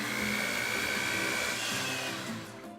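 Electric mixer beating softened butter, Greek yogurt and brown and white sugar for chocolate chip cookie dough, a steady loud whirring drone running close throughout without pause.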